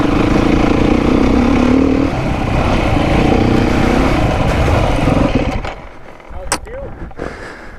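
A Beta 390 dirt bike engine lugs at low speed in third gear without the clutch, a loud, steady, close-up drone that drops away and quiets sharply in the final two seconds.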